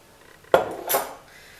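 A spoon knocks against a pot while creamed corn seasoned with salt, pepper and sugar is stirred, giving one sharp metallic clack followed by a softer scraping clink, close and brief.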